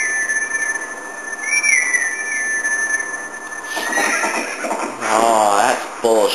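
A horse in the Zelda: Twilight Princess video game answers a high, sustained whistle call, followed by a loud, close, wavering neigh near the end over the game's ambient sound.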